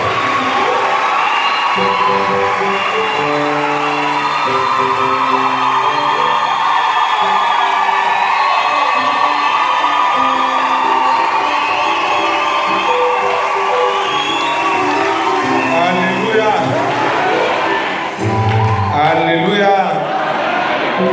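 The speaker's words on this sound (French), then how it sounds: "Sous vos applaudissements." A church congregation applauds and cheers, loud and sustained for about twenty seconds, with whoops and shouts over steady music.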